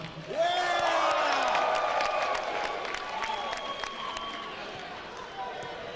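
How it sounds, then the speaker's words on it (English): A crowd at a fight event claps, cheers and whoops, loud at first and then thinning slightly, with voices calling out over the applause. "Sound of applause."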